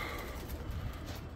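Racing homer pigeons coo softly on arriving back at the loft, a low, muffled murmur under steady outdoor noise.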